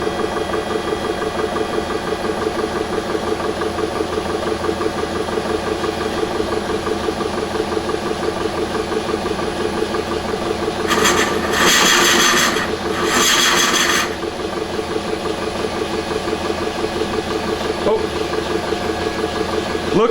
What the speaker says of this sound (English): you can see the tool is in the opening of the vessel, and lathe is spinning.